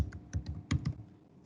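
Several quick, light keystrokes on a computer keyboard, clicking in an uneven burst before trailing off into quiet, with no talking.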